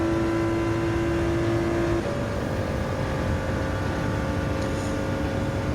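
A Ford GT race car engine in Gran Turismo 7 at the Circuit of the Americas, a loud, steady droning roar with a held high tone that shifts down partway through, sustained throughout.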